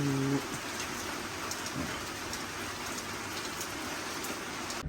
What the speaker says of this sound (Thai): ฝนตกแบบจืดจืดพี่น้องจาน